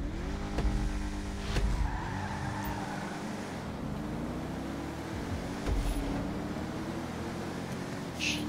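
Several cars in a GTA 5 street race: engines drone steadily with a skid or tire squeal, and short bursts of louder roar come at intervals as cars close in and pull past.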